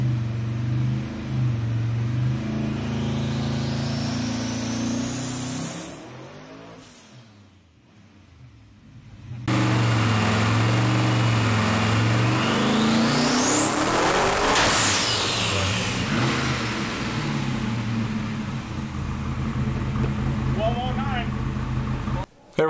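A twin-turbo small-block Ford V8 in a Ford Fairlane 500 street car roars on a dynamometer, with loud sustained engine noise, two rising and falling high-pitched whining pulls and a brief lull between them.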